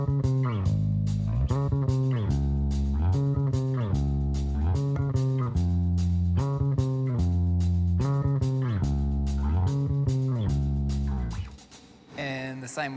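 A simplified bass guitar line for a worship song verse, the higher fills dropped, steady plucked low notes in a repeating pattern, loud and alone until a brief pause and a short voice near the end.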